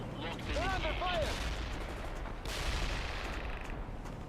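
Battle gunfire from the World in Conflict video game crackles continuously in dense, distant-sounding bursts, with game radio voices and a whistling tone mixed over the combat noise.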